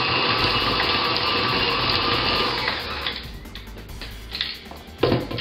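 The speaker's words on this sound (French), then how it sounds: "Je vais augmenter la vitesse pour bien que ça se mélange." An electric mixer beating cookie dough, a close steady high motor whine that shifts pitch as the speed changes, with rattling against the bowl toward the end.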